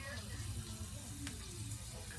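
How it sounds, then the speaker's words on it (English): Green beans frying in hot oil in a wok, a faint, constant crackling sizzle at low level, with a brief soft tick partway through. "Right now, we can see it's already start frying"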